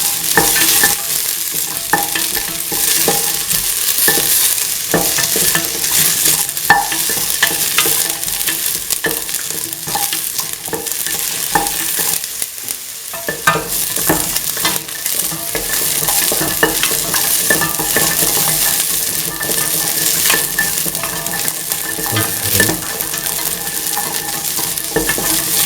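Garlic and shallots saute in a pan with a loud, continuous frying sizzle and stirring that holds steady for the whole stretch, with no voices.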